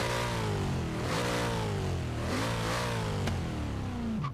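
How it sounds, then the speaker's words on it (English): 1970 Chevy Chevelle V8 in Forza Horizon 3, revving deep and loud in repeated rising and falling sweeps, with no voices over it. "Wow, that motor sounds really nice. Really, really deep sounding."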